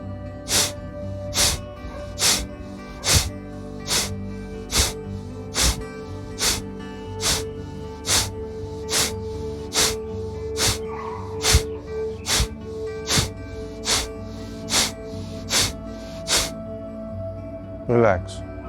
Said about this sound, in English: Again breathe in.